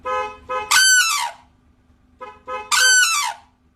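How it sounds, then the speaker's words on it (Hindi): A vehicle horn in Jalalabad, Shahjahanpur, India: two groups of short blasts, each ending in a longer, louder screeching call, with a pause between groups and quiet in between. "देखिए मैं अपनी गाड़ी का हॉर्न बजा रहा हूँ"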